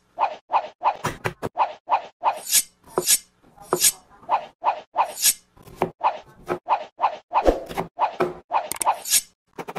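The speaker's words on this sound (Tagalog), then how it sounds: "Balatan ng kailangan balatan at hugasan para sure na malinis bago pagsisibakin ng trip na design." Kitchen prep for chicken sinigang: peeling, rinsing and knife-cutting vegetables, heard as a close, steady run of crisp chopping and scraping strokes on a board, evenly paced with brief pauses, with no talk.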